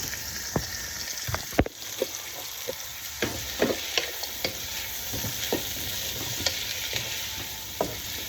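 Onions sautéing in a pan, a soft sizzle running throughout while a utensil stirs, giving scattered clicks and scrapes against the pan at close range.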